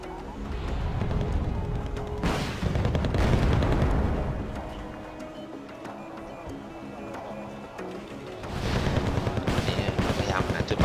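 Battlefield gunfire and artillery in the real-time strategy game Wargame: Red Dragon, a 10 vs 10 match, with dense rattling shots and heavy booming bursts that swell, ease off mid-clip and return loud at the end.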